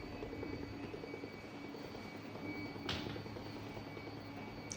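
A faint battery-powered, solar-charged automatic curtain motor hums steadily at low volume as it lowers the curtain, with a single sharp click partway through.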